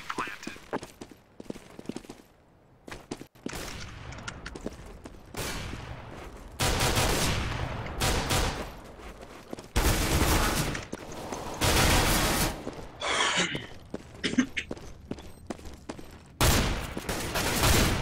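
Gunfire in an online tactical shooter, bursts of rapid shots and single cracks coming in loud clusters separated by quieter gaps, with players talking over the action.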